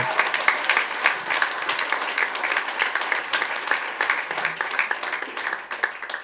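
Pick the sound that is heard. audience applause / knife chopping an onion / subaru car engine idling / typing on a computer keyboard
audience applause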